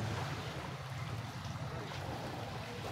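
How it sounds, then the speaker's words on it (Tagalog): Continuous wash of surf and wind at the seashore in Real, Quezon, with boats docked nearby, a steady low roar with soft rushing on top, no voices. "narito po tayo sa tabing dagat"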